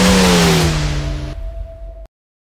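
Aston Martin GT4 race car in the iRacing sim at Canadian Tire Motorsport Park (Mosport), its engine holding a loud, steady whining drone that cuts off abruptly, leaving a thin tone that fades out shortly after.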